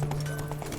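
Horse hooves clop in a quick galloping rhythm while riding through Novigrad in The Witcher 3: Wild Hunt, a brief run of steady beats under a low background drone.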